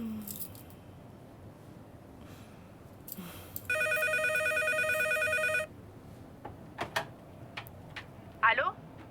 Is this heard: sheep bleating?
no